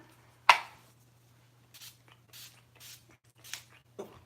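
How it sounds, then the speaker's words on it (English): A sharp spritz from a makeup setting spray bottle, then four softer, short hissing sprays spaced apart over a faint steady hum. "which is more of like a wet spray. It's more rough."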